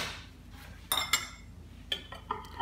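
A utensil scraping and clinking against a metal sardine can, several short sharp scrapes and clinks spaced irregularly, close and fairly quiet.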